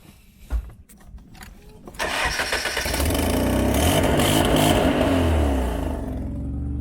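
A car engine with a broken-off exhaust manifold cranks, catches and settles into a loud, rough, rattling idle with a raspy blatting exhaust, close by after a couple of quiet knocks.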